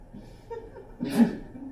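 A single sneeze, short and fairly close, rising out of quiet room tone.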